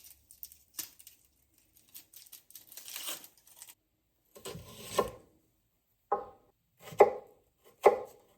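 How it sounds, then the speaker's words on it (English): A knife finely chops a shallot on a cutting board for an avocado gazpacho. Sparse light taps come first, then a few louder, crisp chops near the end, close and with no talking. "I'm going to do the same with the shallot."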